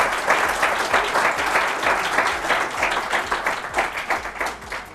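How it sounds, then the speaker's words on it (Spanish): Studio audience applauding two guests on a television programme, a dense, lively burst of many hands clapping at close range, steady and continuous with no talk over it. "Den un aplauso a los dos."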